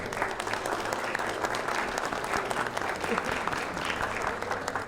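Steady, dense applause from a gala audience at the Inland Valley Hall of Fame Gala 2022 greets the female Master of Ceremony, continuous clapping throughout.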